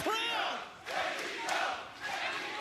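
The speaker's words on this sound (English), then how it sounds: "Listen to the crowd." A large wrestling crowd roars and cheers in swelling waves, loud and reverberant, filling an arena.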